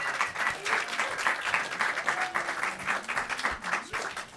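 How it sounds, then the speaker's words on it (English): Comedy club crowd at a roast battle show applauding a comic coming to the stage, with continuous lively clapping and some cheering throughout, steady and fairly loud. "please clap it up and make some noise"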